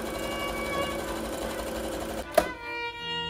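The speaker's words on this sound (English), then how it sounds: "So I have this, and I'm gonna sew it down." A sewing machine stitching through layers of wedding dress fabric hums steadily and close for about two seconds, then stops abruptly with a small knock, leaving a quieter mechanical tone.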